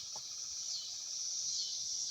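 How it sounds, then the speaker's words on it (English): Cicadas drone outdoors in a steady, continuous high buzz that swells slightly, with a faint brief tap or two at the start, likely a woodpecker. "Sorry for all the cicada noise and woodpeckers and whatnot."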